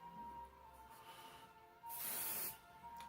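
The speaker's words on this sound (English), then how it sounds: "Giving it a quick spray." A quick spray of product onto hair gives one brief soft hiss for about half a second, heard close against a quiet background.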